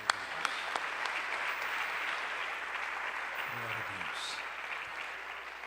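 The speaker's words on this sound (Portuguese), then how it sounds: "E as palmas louvam o nome do Senhor." A church congregation claps together in steady, sustained applause during a worship service, filling the room evenly for several seconds, with faint voices murmuring underneath.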